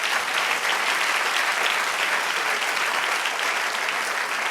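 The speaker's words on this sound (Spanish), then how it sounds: "Den un aplauso al Señor." A church congregation breaks into sustained applause, a dense, even wash of many hands clapping that holds steady throughout without a break.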